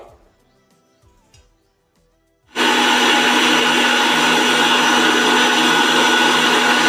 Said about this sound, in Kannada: ಇವಾಗ ನಾನು ಇವೆರಡೂ ಕೂಡ ಮಿಕ್ಸಿ ಮಾಡ್ಕೊಳ್ತಾ ಇದ್ದೀನಿ